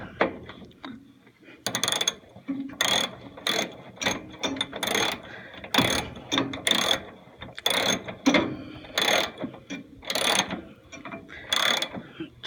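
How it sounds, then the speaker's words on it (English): Socket wrench ratcheting in repeated bursts of rapid clicking, close and distinct with brief pauses between, during repair work on an oil furnace. "And now I can use a socket for these."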